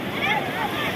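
Sea waves rolling in on Puri beach, a steady broadband wash of surf with wind noise, continuous and fairly loud, with faint crowd sounds mixed in.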